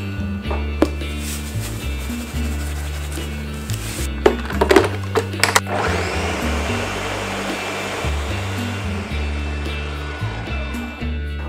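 A blender motor whirs loudly and steadily, its pitch stepping up and down, with a few sharp clunks in the middle, blending cooked tomatoes.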